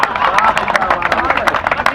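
An audience at a Hindi speech event breaks into loud, fast clapping, a dense burst of claps and crowd noise close by for a couple of seconds.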